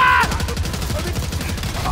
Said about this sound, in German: Feuer frei.